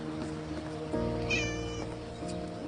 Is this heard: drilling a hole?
no